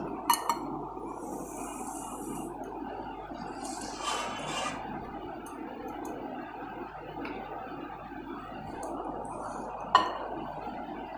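Dishes and cutlery clink softly while payesh (kheer), a Bengali milk-rice pudding, is served into bowls, with a few light taps and a sharper clink near the end over a quiet kitchen hum.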